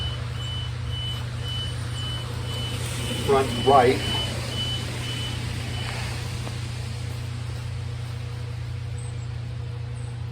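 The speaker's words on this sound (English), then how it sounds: "it looks like it really sensed that 1 tire pressure monitor, and it started beeping" A car's tire pressure monitor sounds a short pair of beeps midway, fairly faint over a steady engine hum, with a person speaking briefly.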